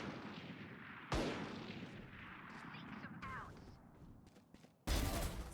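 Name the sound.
gunfire in the video game Valorant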